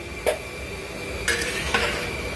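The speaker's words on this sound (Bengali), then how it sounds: "তো ভালো করে মেশান, ফ্রাইড রাইসটা মেশান।" A large pot of fried rice being mixed for a lunch event of 600-700 people, with three distinct metallic scrapes and clanks of a utensil against the pot over a steady kitchen background hum.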